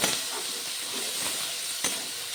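Chopped tomatoes hit a hot pan of softened onion and garlic, giving a steady bright hiss and sizzle throughout, with a slight swell in the middle and no talking.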